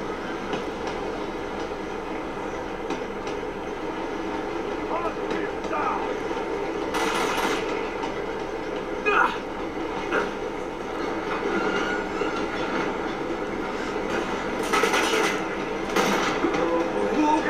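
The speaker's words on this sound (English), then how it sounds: "I really wish this train would stop moving." Moving train in Uncharted 2: Among Thieves, a continuous rumbling roll with rhythmic rattles and a few brief bright metallic bursts, steady and close throughout.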